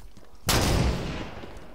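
A single loud weapon blast in Halo 5 Forge hits suddenly after near-silence, then decays into a long, roaring tail.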